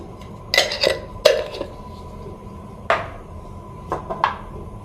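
A big spoon adds sugar to South Indian filter coffee, giving several close metallic clinks and scrapes against a cup in scattered bursts over quiet background.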